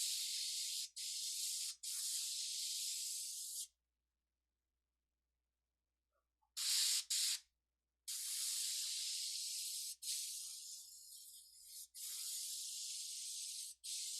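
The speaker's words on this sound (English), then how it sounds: "Come on, airbrush. There we go." An airbrush spraying paint through a stencil, bursts of close, steady hissing air in several spurts of varying length separated by silent pauses.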